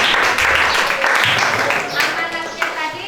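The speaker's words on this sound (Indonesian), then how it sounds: "Oke, tepuk tangan dulu untuk kelompok Ayu." Classroom applause for a student group, many hands clapping in a brisk, fairly loud burst that runs for a few seconds with some voices mixed in.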